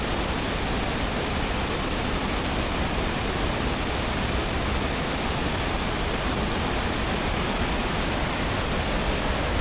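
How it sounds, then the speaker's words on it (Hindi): Lodh waterfall at Netarhat, Jharkhand, a tall cascade, gives a loud, steady broadband roar of falling water that holds unbroken throughout with no voices. "नेतरहाट टूर के अपने दूसरे दिन पे हम लोग अभी हैं लोध वाटरफॉल में"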